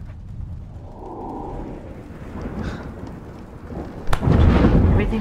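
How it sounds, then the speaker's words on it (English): A thunderstorm rumbles with low rolling thunder and steady rain. About four seconds in, a sharp, loud crack of nearby thunder breaks out, followed by a heavy rumble. "The storm scared her a bit."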